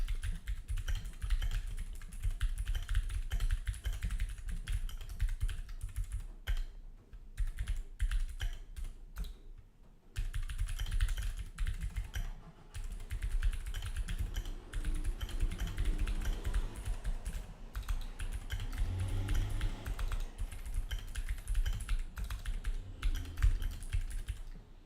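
Continuous clatter of fingers typing on a computer keyboard during a live OBS streaming session, with close, rapid keystrokes running steadily through nearly the whole stretch and only brief pauses.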